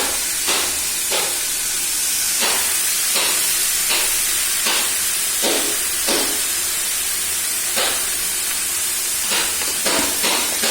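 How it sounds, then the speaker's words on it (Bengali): Chicken sizzles steadily in a pan while being sautéed with spices, a constant loud hiss broken by short bursts of sharper spitting every second or so, with no talk. "মাংস কষা চলছে, চিকেনটা ভালো করে কষছে"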